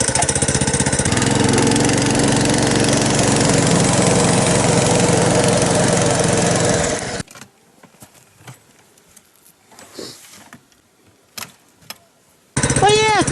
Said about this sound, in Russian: Да он легкий, маленький снегоходик.